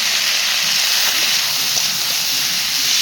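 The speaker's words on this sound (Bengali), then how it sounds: "আর এদিকে তারপরে জিরে ফোড়ন দিলাম তেলের মধ্যে, দিয়ে সবজিগুলো আমি ঢেলে দিলাম।" Vegetables poured into hot mustard oil with cumin seeds, a loud, steady, close hiss of frying that holds evenly without a break.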